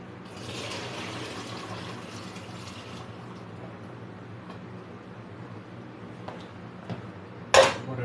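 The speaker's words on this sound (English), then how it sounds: "Pour that noodle off." Hot water poured off cooked pasta noodles into a kitchen sink, a steady splashing gush for a few seconds that thins to trickles, followed by a sharp clank of a pot near the end.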